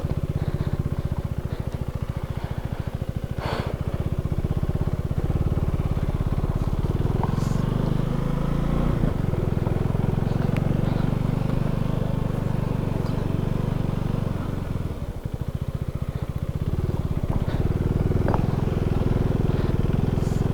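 A KTM Duke 390 motorcycle climbing a high-altitude road toward Pangong Lake in Ladakh, its engine droning steadily and loud throughout with wind rush, while the rider talks over it.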